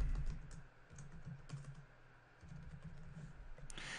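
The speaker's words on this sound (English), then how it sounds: "Type in example." A computer keyboard clatters with quick, light typing bursts, close and fairly quiet, while text is entered into a WordPress site.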